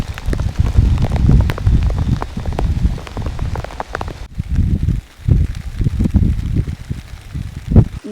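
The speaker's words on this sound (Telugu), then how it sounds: "వర్షం మళ్ళీ స్టార్ట్ అయిపోయిందండి, బీభత్సం కురిసేస్తుంది" Heavy rain pours down with gusting wind at a campsite at night, a dense, loud, continuous roar of drops pattering close by on the surface, with one brief dip midway and a sharp louder hit near the end.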